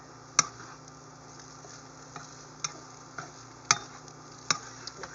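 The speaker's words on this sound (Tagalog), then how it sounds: "Mix ko lang muna." Spicy shrimp fried rice being stirred in a pan, with a faint background sizzle and a handful of sharp scraping clicks of the utensil against the pan, spaced irregularly, with no talking.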